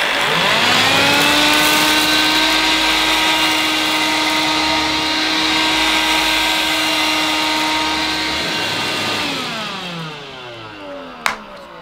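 An AEG CX7 2 in 1 cordless vacuum cleaner runs loud and close with a steady motor whine for about nine seconds, then spins down as its pitch falls away, ending with a sharp click.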